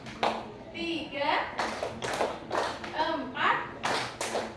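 Group of people in a teachers' training session doing a counted rhythmic clapping ice-breaker, short bursts of hand claps in sets separated by pauses, with voices calling out the counts between them.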